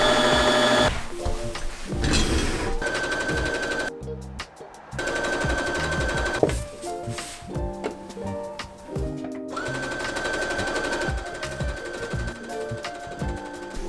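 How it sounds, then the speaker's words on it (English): A home sewing machine stitches a garment in a steady, close mechanical run that stops and restarts several times, with music-like tones layered over it. "I'm gonna try to sew this up quickly so I can see how the fit's looking."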